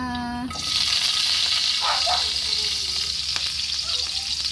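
Fish for escabeche fries in hot oil with a loud, steady crackling sizzle close by. A short voice is heard at the very start, before the frying takes over.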